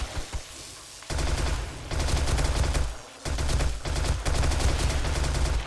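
Rapid automatic gunfire from the 7 Days to Die video game as zombies are shot. Dense, loud bursts sound in quick succession, broken by a couple of brief pauses.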